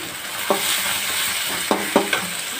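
Onions sautéing in a frying pan for a chicken dish: a steady close sizzle runs throughout, broken by a few quick scraping stirs of the spatula against the pan.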